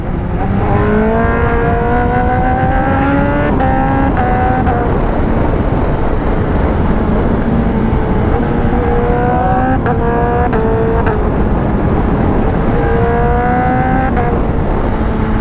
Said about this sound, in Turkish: shifter sesi gerçekten çok tatlı